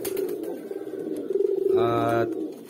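Pigeons coo in a breeding cage, a low murmuring warble running throughout with a louder, fuller coo near the end, close by.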